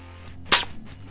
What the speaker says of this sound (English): I'm gonna shoot this melon and see what happens